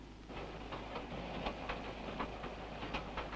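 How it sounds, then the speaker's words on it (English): Royal train rolling along the railway through the sheep-raising country of Hawke's Bay, a steady faint rumble with soft, regular clicks of wheels on rail joints and no voices. "the train moves through the rich sheep-raising area of Hawke's Bay"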